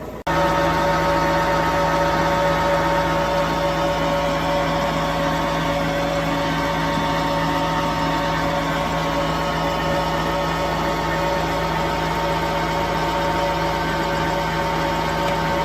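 A tractor engine idles with a steady, unbroken drone and a constant hum, close by and loud throughout with no voices.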